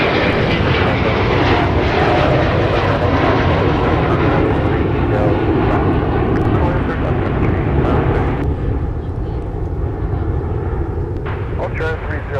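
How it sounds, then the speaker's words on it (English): An airliner on its takeoff roll from runway 30 left at MSP airport in the Twin Cities produces a loud, steady jet engine roar that fills the whole stretch and eases slightly near the end. "Runway 30 left, clear for takeoff"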